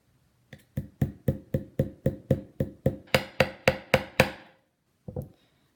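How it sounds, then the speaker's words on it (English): A hammer drives a nail into a wooden handle with about fourteen sharp, evenly spaced strikes, close and distinct, followed by a pause and one final blow. "you can get a nail and you put a nail in and then you just start hammering away"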